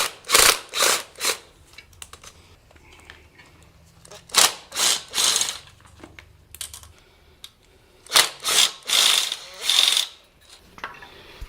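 A ratchet wrench loosening intake manifold bolts on a 1995 Audi A6 Avant Quattro 2.8 V6 with 330K miles: three loud, close bursts of quick clicking, each a few pulls long, separated by short quiet gaps.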